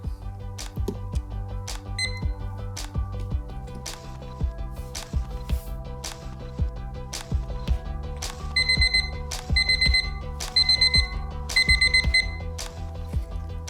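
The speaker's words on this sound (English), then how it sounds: "The 4-minute timer just went off." A kitchen timer alarm rings out in repeated rhythmic beeping bursts, growing louder and more insistent toward the end, with no talking over it.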